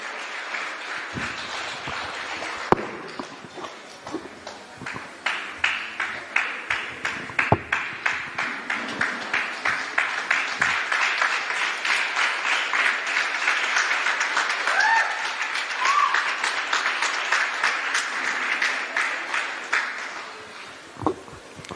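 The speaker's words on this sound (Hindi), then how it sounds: "जोरदार तालियां यार, बोलना नहीं पड़ना चाहिए।" An audience claps in a swelling rhythmic ovation as someone is invited on stage, the clapping building from scattered claps to a loud, sustained, partly synchronized beat before tapering off.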